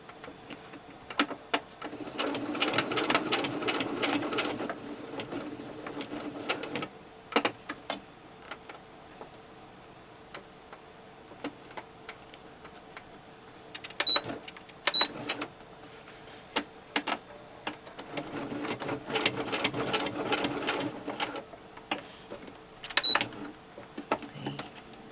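A sewing machine stitches fabric slippers in two sustained whirring runs of rapid needle clatter, separated by quieter stretches with scattered clicks and handling noises.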